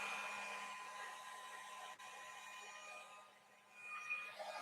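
A heat gun blowing for heat embossing gives a steady whooshing hum with a faint whine, dipping briefly and then continuing, close and moderately loud.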